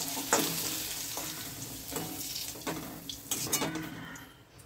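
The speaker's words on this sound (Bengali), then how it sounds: "এবার আমি এই আলুটাকে এই কাঁঠালের বিচির এই পাত্রটার মধ্যে তুলে নিচ্ছি।" Fried potatoes are moved from a pan into a pot of jackfruit seeds for a rohu fish head curry: metal clatter and spoon scrapes over a steady frying sizzle, with several sharper knocks.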